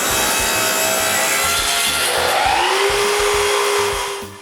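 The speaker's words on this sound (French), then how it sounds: "je coupe des morceaux à 1 pouce d'épais" Loud power saw cutting wooden pieces one inch thick, a harsh broadband rasp with a rising whine as the blade runs through the wood, close up, winding down at the end.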